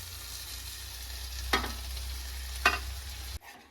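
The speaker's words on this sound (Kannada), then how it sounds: "ನೋಡಿ ಇವಾಗ ರೈಸ್ ಹಾಕೊಂಡ ನಂತರ ನಾನು ನೀಟಾಗಿ ಇದನ್ನ ಮಿಕ್ಸ್ ಮಾಡ್ಕೊಳ್ತಾ ಇದ್ದೀನಿ" White rice being mixed into fried spinach masala in a pan for palak rice, a soft sizzle with two distinct spatula scrapes before it cuts off.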